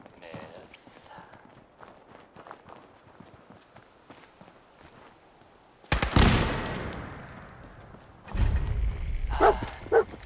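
Dogmeat, the dog companion in Fallout 4, gives a couple of loud, sharp barking bursts near the end, following quieter stretches of footsteps and soft game ambience.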